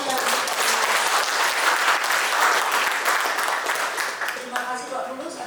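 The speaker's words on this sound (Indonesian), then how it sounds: "Mari kita berikan tepukan yang meriah." Audience applause after a welcome speech at a financial-report preparation workshop: dense, sustained clapping from a sizeable crowd that fills the whole stretch and eases slightly toward the end, with faint voices emerging as it thins.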